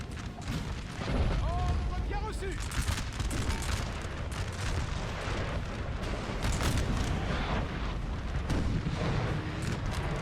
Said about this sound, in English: Okay, we've got a lot of artillery.